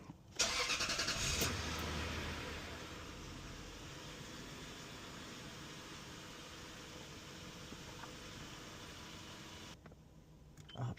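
Lexus LS430 sedan engine starting: a brief cranking catch, then a steady, quiet idle with a soft hiss for several seconds before it drops away, no voices.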